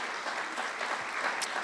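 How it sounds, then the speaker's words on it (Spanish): Church congregation applauding in a steady, dense wash of clapping throughout, fairly close and without talk. "le damos un aplauso a todos los que hacen posible esas reuniones"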